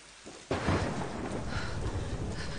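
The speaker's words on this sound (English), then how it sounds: "It's a rainy day, alright?" In the Tomb Raider video game, a loud crack of thunder breaks in over steady, dense rainfall that keeps pouring close by.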